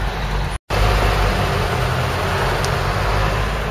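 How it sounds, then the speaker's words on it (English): A Mk3 Ford Cortina's engine idles steadily, a smooth low rumble filling the whole stretch apart from one very short dropout near the start. "Oh, just listen to how sweet the engine sounds. Mint, ticking over."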